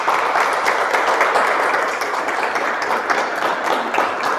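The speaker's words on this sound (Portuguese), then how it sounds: "vamos acolher o Leonardo com uma gostosa salva de palmas" Steady applause from a large church congregation indoors, many hands clapping continuously at an even level throughout.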